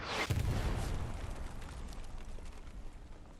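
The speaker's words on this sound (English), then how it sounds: "Absolute ridiculousness of explosion. Both rep stations go down." A massive explosion in the video game Hell Let Loose, destroying two repair stations: a heavy boom hits at the start, then a deep rumbling roar slowly fades away, loud and close, with no voices.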